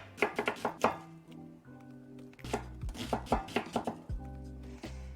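Knife chopping ingredients for a chicken thigh sauce on a cutting board, a quick burst of close, crisp thuds followed by slower, scattered cuts, with pots and pans clinking faintly between strokes.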